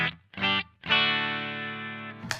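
Tokai Custom Edition electric guitar played through a distortion pedal: two short chopped chords, then a sustained ringing chord fading slowly, ending in a brief bright pick scrape.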